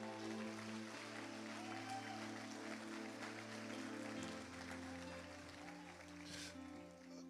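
Church congregation applauding, a sustained even wash of clapping heard at a distance under steady sustained organ or keyboard tones.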